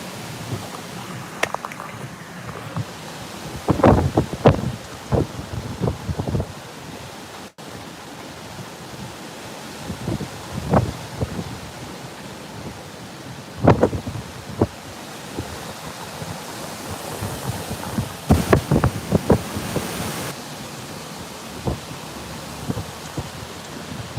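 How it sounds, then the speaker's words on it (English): Hurricane Isaias wind blowing at landfall near Wilmington, North Carolina, a constant loud broadband roar with repeated heavy gusts buffeting the microphone. "The wind's blowing pretty good."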